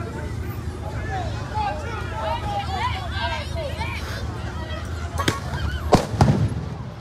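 Tear gas canisters fired by police at a street protest against a crowd; loud sharp bangs near the end ring out over a steady murmur of crowd noise and distant voices.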